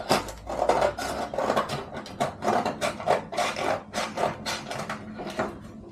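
A knife cuts food on a cutting board in a home kitchen, a quick run of close, dry scraping and rasping strokes repeating irregularly for several seconds.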